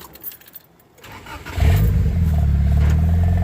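A Honda Integra (1990–93) engine cranks briefly and fires up, settling into a loud, steady idle close by after a few quiet clicks.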